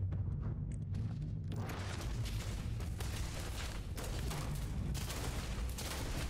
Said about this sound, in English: I'm so glad I'm being shot at